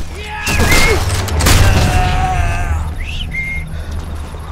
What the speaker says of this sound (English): He did the whistle.